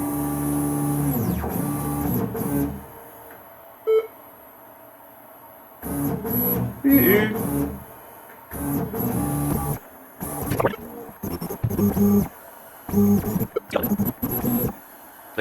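A CNC machine runs in bursts, its stepper motors whining and buzzing as the axes move, broken by quieter stretches and short pauses, with a steady high-pitched tone throughout.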